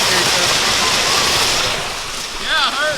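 Creek water rushes and splashes continuously nearby, broadband and fairly loud, with wind buffeting the microphone and a short whistling sound near the end.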